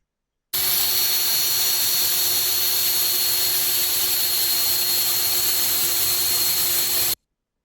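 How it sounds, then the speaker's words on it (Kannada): Power drill boring holes through a bathroom wall for pipe fitting, a steady loud high-pitched whine with a constant tone running unbroken for about seven seconds, no voices. "ಒಂದು ಒಳ್ಳೆ ಮೆಷಿನ್ ಇಟ್ಕೊಂಡು ನೀವು ಈ ಥರ ಪ್ರಾಪರಾಗಿ ಹೋಲ್ ಹಾಕ್ದಾಗ"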